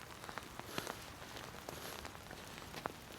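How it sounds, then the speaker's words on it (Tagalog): Heavy rain falls outdoors, a steady close hiss of drops striking surfaces with scattered louder splats throughout, no voices. "Nabutan na tayo ng ulan na malakas."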